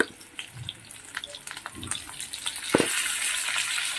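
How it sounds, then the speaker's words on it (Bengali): Potato pieces fry with salt and turmeric in a pan, a soft, steady sizzle with scattered crackles that swells into a louder, denser hiss toward the end. "আর নুন হলুদ দিয়ে আলুটাকে ভেজে নেব"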